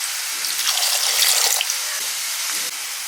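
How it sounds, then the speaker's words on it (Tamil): Water is poured into a steel mixer jar holding ground garlic for a paste, a steady, close splashing stream that swells briefly and then runs on evenly, with no talking. "இப்போ நம்ம தண்ணி ஊற்றி அரைச்சிக்கலாம்"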